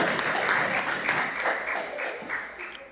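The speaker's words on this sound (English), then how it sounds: "So please give them a round of applause for their hard work and dedication." A round of applause from an assembly audience at an annual debate, dense steady clapping that fills the room and gradually fades toward the end.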